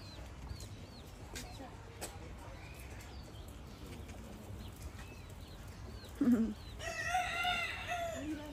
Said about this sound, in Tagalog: Mabuhok na chicken.